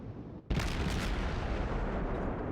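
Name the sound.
USS Benson destroyer guns firing, World of Warships video game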